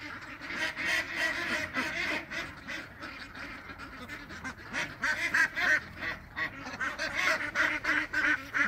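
A flock of ducks, older birds sharing space with young ones, quacking and honking continuously, loud and close, with overlapping calls throughout and no talking.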